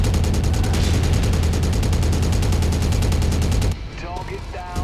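A rapid, steady stream of machine gun fire rattles from a mech in the MechWarrior video game, loud and continuous for several seconds before cutting off into fainter background game sounds.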